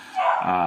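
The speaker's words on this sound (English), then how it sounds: "Sorry if you can hear my dog barking." A single short dog bark, fairly loud and close, with a brief whimpering tone to it.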